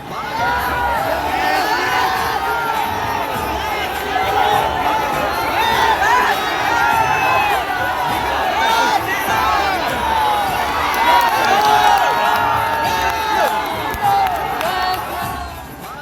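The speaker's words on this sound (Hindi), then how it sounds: "होटल से निकलते वक्त हजारों की संख्या में लोग बाबा की एक झलक पाने के लिए तपती दोपहरी में बेकरार दिख रहे हैं" A crowd of thousands waits outside a hotel in Patna's afternoon heat to glimpse Baba Bageshwar, a dense, continuous roar of shouting and cheering voices that swells and fades in waves throughout.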